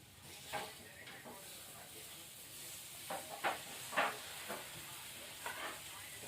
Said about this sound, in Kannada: ನಾನು ಇವಾಗ ಚಪಾತಿ ಹಾಕೋತೀನಿ ನೋಡ್ರಿ ಸ್ವಲ್ಪ ಎಣ್ಣೆ ಹೊಡೆದು